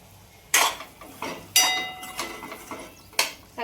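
A metal spoon stirs and sautés soybean curry in a pan: several distinct, sharp clanks against the pan at uneven intervals, with a soft scraping sizzle between them and no talk.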